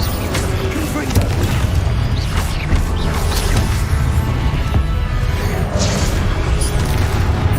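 Confringo fire spells explode during combat in Hogwarts Legacy, a loud continuous rumble of booms, crashes and whooshing effects layered with battle noise, while a voice calls out under the din.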